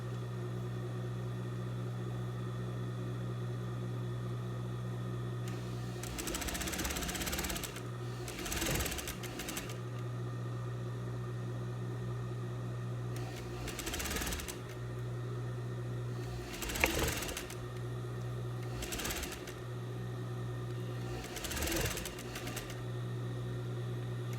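A sewing machine stitches a seam joining the edges of red viscose dress fabric at a 1 cm margin. It runs in several short bursts over a steady low background hum.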